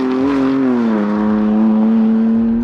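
A BMW M car accelerates under a balanced throttle, its engine giving a strong, steady harmonic drone that dips slightly and then holds, loud and close throughout.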